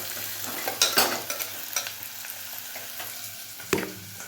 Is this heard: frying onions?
yes